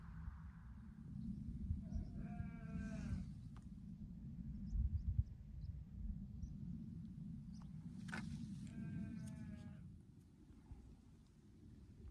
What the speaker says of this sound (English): That sheep is really noisy and vocal and quite annoying.